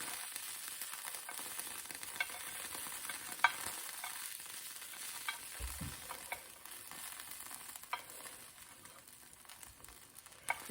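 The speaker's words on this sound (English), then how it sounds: "So grab your handy tongs, just take them, you flip them over 180 degrees" Prosciutto-wrapped asparagus spears crackle and sizzle faintly on a hot tray, a soft continuous fry with scattered pops and light clicks of tongs turning them over, one low knock midway.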